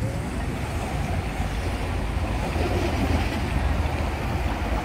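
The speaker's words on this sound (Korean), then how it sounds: "멋있는 또 트램이 지나가고요" A tram passes along a busy street in Vienna, a steady loud rumble of wheels and traffic filling the whole stretch with no voices.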